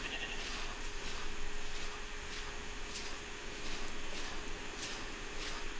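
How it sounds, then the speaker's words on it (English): Goats in a video game bleat repeatedly at a moderate distance over a steady noisy background hum, with no talk. "Goats."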